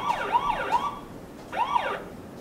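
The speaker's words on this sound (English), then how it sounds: "the siren sounds as well" A toy car siren wails in a rapid rising-and-falling electronic pattern, stops briefly, then sounds again, thin and close by.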